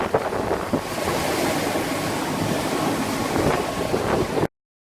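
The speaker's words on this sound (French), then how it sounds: "Donc on avance gentiment à 7 nœuds avec un petit moteur." A Fountaine Pajot Ipanema 60 catamaran motors along at about 7 knots on a small engine at sea, giving a steady wash of waves and water rushing past the hull under light wind, then cutting off abruptly.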